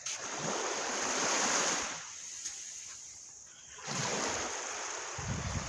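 Sea waves wash onto a sandy shore in repeated rushing surges, with a quieter lull between breaks and wind noise buffeting the microphone.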